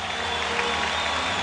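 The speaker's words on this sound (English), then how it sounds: "listen to this ovation by the crowd for Ortiz as Mike Scioscia is taking him out" A stadium crowd at an Oakland Athletics at Anaheim Angels baseball game gives a standing ovation as pitcher Ortiz leaves the mound, with a dense, steady wash of applause and cheering that stays loud and even throughout.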